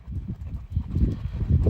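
A young, still green horse's hooves clip-clop in a steady rhythm as it is ridden through schooling work. The hoofbeats are close and distinct, with no voices over them.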